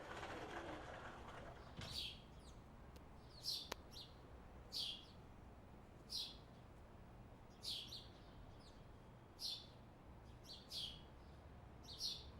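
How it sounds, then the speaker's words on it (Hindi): Birds chirp in short, regularly spaced calls, roughly one every second or so, clear but not loud, over a steady background hiss. "चिड़ियों की आवाज कितनी प्यारी लग रही है।"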